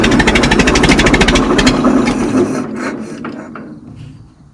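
Minneapolis Moline Z tractor engine cranking over with choke applied, a loud rapid mechanical chugging that slows and dies away after about two and a half seconds, close to the microphone.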